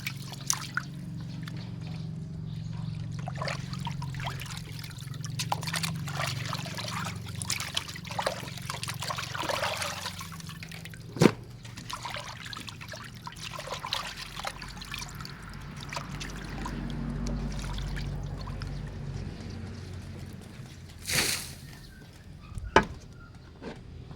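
Water runs and drips steadily while bamboo shoots and other ingredients for a Thai-Isan curry are washed, a soft continuous trickle with occasional louder splashes and clicks and no talking.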